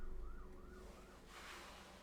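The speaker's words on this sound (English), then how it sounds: "No, I think those are ambulances." Ambulance sirens wail as they pass outside an apartment, heard from a distance with a rising and falling tone over muffled traffic rumble.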